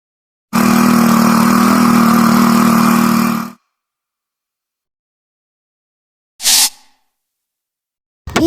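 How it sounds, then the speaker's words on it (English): A farm tractor engine runs loud and steady for about three seconds, then cuts off, followed by a brief separate burst of noise and near silence. "Tractor."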